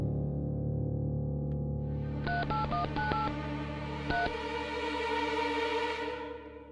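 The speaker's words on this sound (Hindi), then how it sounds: "उन्हें फोन लगाना चाहूंगा इलाहाबाद" Telephone keypad tones as a number is dialed to Allahabad from a Mumbai courtroom: a quick burst of about seven beeps followed by one more, over a steady background hum with no talk.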